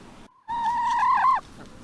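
Hens in a garden let out a single drawn-out, tonal call of about a second, fairly close and clear, with a quiet gap just before it and no talking.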